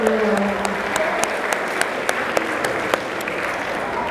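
Audience at an Indonesian school talk show event applauding steadily, a dense wash of clapping with a few sharper individual claps standing out.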